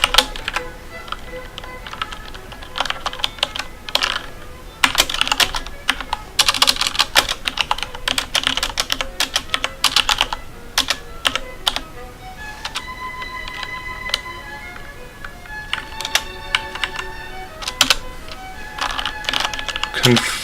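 Fingers type Python code on a computer keyboard in irregular bursts of close, crisp key clicks, with a person speaking intermittently over the typing.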